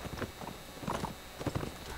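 Horse hooves clip-clop in Mount and Blade Warband, a quick irregular series of light clopping steps over a noisy game background.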